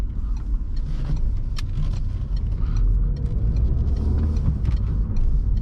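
Peugeot RCZ driving, a steady low engine and road rumble heard from inside the cabin, continuous and fairly loud with no speech.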